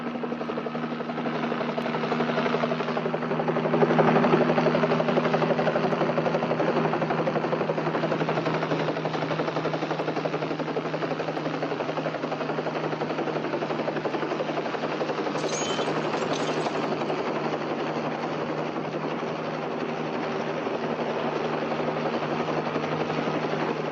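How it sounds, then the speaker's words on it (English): Helicopters flying with a steady, loud droning rotor throb that holds evenly throughout, alone without talk. "you shall have your copters"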